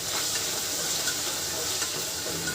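Sliced potatoes fry in a pan with asafoetida and salt while being stirred, giving a steady, close sizzling hiss with faint scraping throughout.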